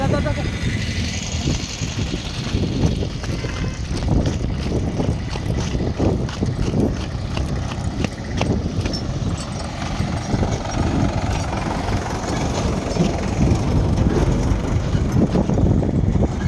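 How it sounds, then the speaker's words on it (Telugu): A tractor rumbles along a village road with a continuous engine drone and chugging that stays loud and close throughout; a person talks over it. "అలా ట్రాక్టర్ వస్తుంది."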